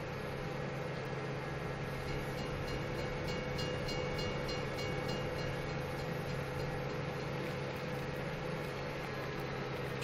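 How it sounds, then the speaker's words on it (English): A train rolls past in the farming game Farming Simulator 17, a steady, moderately quiet rumble of wheels and carriages holding evenly throughout, with no voices. "You gotta beat the train."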